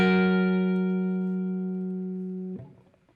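A single guitar chord, a dominant chord containing the leading tone, rings out and sustains evenly for about two and a half seconds before being damped.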